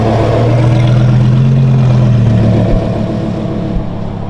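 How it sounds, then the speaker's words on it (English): A Lamborghini V10 fitted with just a muffler runs loud and close, a deep steady drone that swells briefly and then eases back toward a lower rumble. "Gosh, that V10 is insane."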